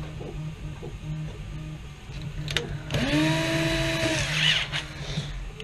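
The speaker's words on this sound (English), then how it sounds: "And so we'll go ahead and drill those out now." A power drill whines up in pitch and bites into a plastic Nerf blaster shell, running steadily for a few seconds over a low background hum.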